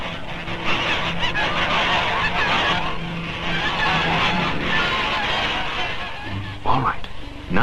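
A flock of geese honks continuously in a dense, busy chorus on an old 16mm film soundtrack. A few louder calls stand out near the end.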